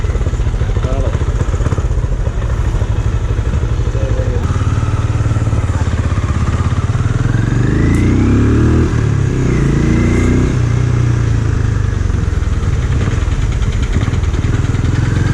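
Benelli Imperiale 400 motorcycle engine on a road test ride, a steady loud low rumble with wind noise, rising and falling slightly as the rider accelerates and eases off, with a voice talking over it.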